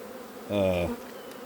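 Honeybees from an opened, crowded spring hive give a short, loud, close buzz with a clear droning pitch, swelling briefly and then fading back to a quiet background.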